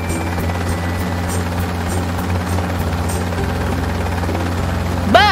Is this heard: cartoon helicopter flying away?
yes